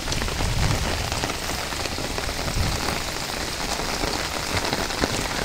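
Steady rain falls at an outdoor bangus fishing spot in Valenzuela City, a dense, continuous patter of drops on surfaces filling the scene at close range with no one speaking.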